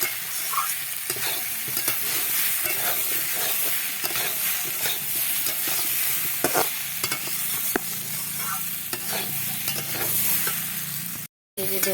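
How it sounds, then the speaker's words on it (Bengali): Garlic sautés and is stirred in a hot pan, a steady close sizzle with scraping stir strokes throughout, cut off by a brief silence near the end. "রসুন কষানো হয়ে গেছে"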